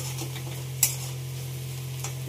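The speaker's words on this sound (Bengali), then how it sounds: "এখন রান্না হচ্ছে গাঁঠি কচু" Taro (gathi kochu) cooking in a pan over a steady low hum and soft sizzle, with a single sharp clink of a utensil against the pan and a fainter tap later, brief and close.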